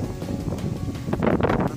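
Gusty wind buffets the microphone outdoors at a pigeon race finish in Paete, Laguna, a rough low rumble with a stronger gust near the end.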